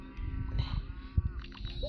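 A cartoon cow gives a drawn-out moo in the farming game Township, mixed with soft game sound effects and faint background tones.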